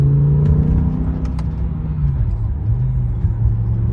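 A BMW M6 with a V10 engine cruising, giving a steady, loud cabin drone with smooth engine tone shifts and no voices.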